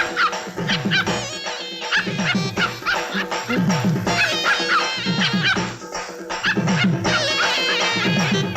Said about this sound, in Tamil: இன்னையில இருந்து நாயை அவுத்து விடு.